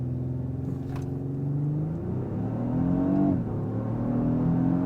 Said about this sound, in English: I'm going to brake boost it off the line here to see how we do